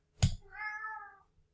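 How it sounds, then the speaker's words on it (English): A house cat meows once nearby during a quiet indoor screen recording, a short drawn-out cry preceded by a brief thump. "don't mind my cat."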